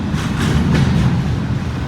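A train rumbles past a road crossing on the old B&O line, a loud, steady, close roar with heavy low rumble and faint rail clatter, no voices.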